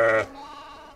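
A sheep, a ewe with lambs, gives one loud, close bleat that cuts off abruptly, leaving a quieter, wavering tail of the call.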